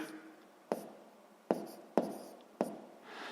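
A pen writes a maths sum on paper in four short, sharp scratching strokes separated by pauses, close and clear.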